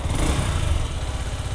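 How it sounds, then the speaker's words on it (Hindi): A Yamaha R15M motorcycle idles with its engine and exhaust running, a loud close steady low rumble with a fast even pulse and no talk. "अभी फ़िलहाल मैं आपको इंजन की साउंड सुना देता हूँ, एग्जॉस्ट की साउंड सुना देता हूँ"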